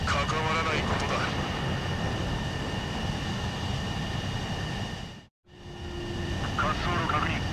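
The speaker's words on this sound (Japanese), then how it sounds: "滑走路確認、着陸を許可する。" Fighter jet engine in Ace Combat 7 during a landing approach, a steady loud broadband roar with a high whine that cuts out briefly near the end, under radio chatter voices.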